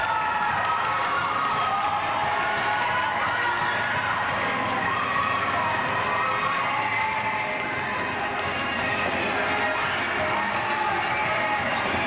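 A wrestling arena crowd cheers and shouts loudly and without a break as the tag team wrestlers walk around the ring greeting fans, a dense, steady roar filling the whole stretch.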